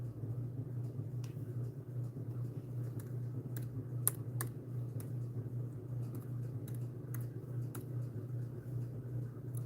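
Typing on a computer keyboard, with irregular bursts of soft key clicks and a few sharper taps over a constant low hum, close and fairly quiet, with no one speaking.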